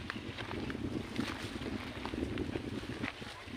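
Steady wind gusts off the sea on the Visayan coast, rushing and buffeting the microphone continuously with no talk over it.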